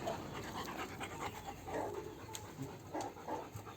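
A dog pants close up, with rapid, steady breaths running throughout and no pause.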